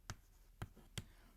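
Numbers being written on a board during an accounting lesson: three short, distinct taps of the marker or chalk striking the surface in an uneven rhythm, close and faint, with no voices.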